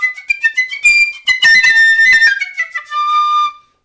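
A flute with its head joint attached plays a quick run of bright, high notes, first staccato and then more sustained, ending on a held tone that stops abruptly.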